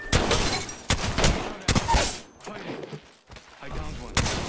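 Video game gunfire in a close firefight, with several loud, sharp bursts and single shots spaced irregularly, some tailing off with brief echoes.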